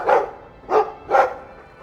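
A dog in the video game Dragon Age II gives three loud, close barks, evenly spaced with short gaps between them and no speech over them.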